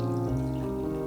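Water poured into a jar of sliced apples for a homemade detox drink, a steady close pour with a rising liquid tone and no talking over it.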